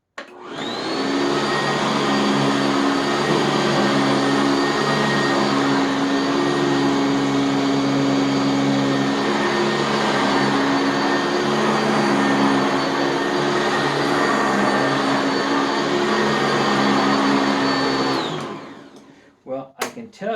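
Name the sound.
Sanitaire SC679K vacuum cleaner on carpet, position 2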